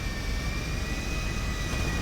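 Jet engine of an expensive airplane in the video game GTA 5, a steady, loud, dense roar with a thin high whine running through it, continuous and without talk.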